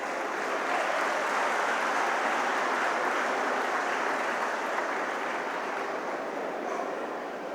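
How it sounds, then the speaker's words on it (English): An audience applauds a guest of honour at the inauguration of a student cultural event, a dense, sustained round of clapping that fades slightly at the end. "A big round of applause, audience."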